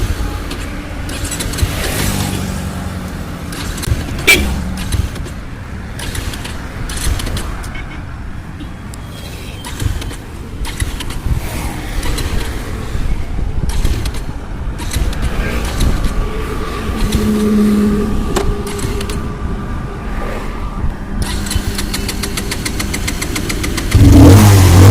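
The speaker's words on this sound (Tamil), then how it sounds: "ரொம்பவும் கஷ்டப்படுற மாதிரி இருக்குது வண்டியை. ஸோ அப்போ தான் வந்து ஸ்டார்ட் ஆகுது" Bajaj Pulsar 220F BS6 motorcycle engine labouring to start and run roughly, a steady mid-pitched engine drone with uneven knocking, close and moderately loud, with some background noise.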